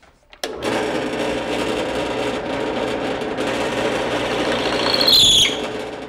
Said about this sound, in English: you're using a plug cutter that has a hole in the middle